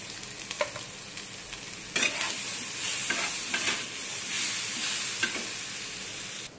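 Chilli powder, turmeric and spices stirred in a hot frying pan: continuous oil sizzle with repeated scraping strokes of a spoon against the pan, close up and without any voices.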